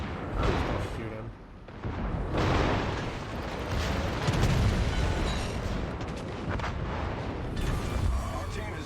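Heavy naval guns boom in World of Warships, a dense rumbling wash of repeated blasts and explosions layered over continuous game sound, with a voice speaking faintly beneath.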